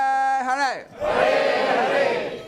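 A devotional crowd at Bhaktivedanta Manor answers a chant. A single held tone bends and fades, then many voices burst out together in a loud, sustained shout that swells and tails off, close and dense.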